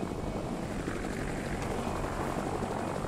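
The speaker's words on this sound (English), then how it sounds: "We got a helicopter though." A helicopter in the Fortnite battle royale video game whirs as a steady, unbroken rotor and engine roar that holds at a constant level throughout.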